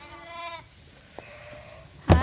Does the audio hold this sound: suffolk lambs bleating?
yes